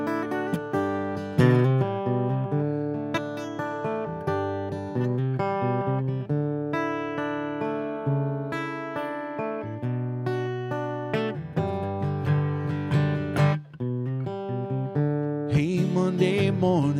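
A singer-songwriter plays a song live at a songwriter roundup; tonal, steady music runs through the whole stretch at an even level, with no talking.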